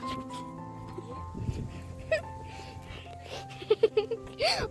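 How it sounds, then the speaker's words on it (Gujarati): A dog met on the road up to the Ghela Somnath Mahadev temple in Gujarat whimpers and gives a quick run of short yips close by, while people talk and laugh. "રસ્તામાં એક કૂતરો આવ્યો અમને"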